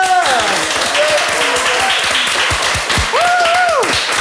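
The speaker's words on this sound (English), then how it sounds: "Big applause for Dirk." Studio audience on a television talk show applauds beneath a loud voice speaking over it, clapping as a steady rattle under the talk.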